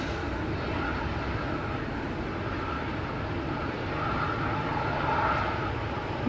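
A Ryanair airliner at a gusty Manchester Airport produces a steady, broad jet roar that holds at a constant level, swelling slightly near the end, with no voices.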